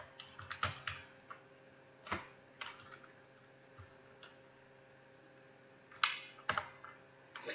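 Code being typed on a computer keyboard, with irregular bursts of close, crisp key clicks separated by pauses over a faint steady mains hum, no voices.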